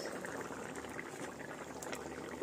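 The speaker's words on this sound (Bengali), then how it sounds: "মাছটা দিয়ে কিছুক্ষণ ফুটিয়ে নিয়েছি।" Snakehead fish curry simmering in a pot gives a soft, continuous bubbling hiss, faint and steady throughout, with a slight rise at the very end.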